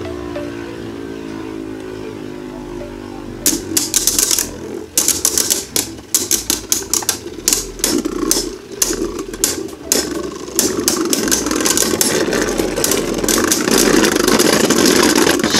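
Two Beyblade Burst spinning tops, Shelter Regulus and Shadow Orichalcum, clash in a stadium after a silent start: rapid sharp metallic clicks and collisions over a loud, steady whirring spin that rises toward the end.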